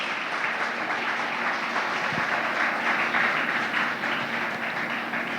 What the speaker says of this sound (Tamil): எல்லாரும் ஒரு பலத்த கைத்தட்டுகளை அவளுக்காக தர சொல்கிறேன்.